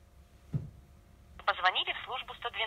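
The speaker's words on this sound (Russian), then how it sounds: "Проверим динамик слуховой, позвоним" Phone call tones play through a smartphone's earpiece while dialing the emergency number 112: a brief click, then a bright run of rapid electronic tone bursts that continues to the end, fairly faint and close.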